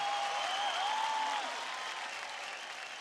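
Studio audience applause for a composer duo on the Superstar Singer Season 3 singing show stage, a steady wash of clapping that slowly fades, with a sustained musical tone drifting over it.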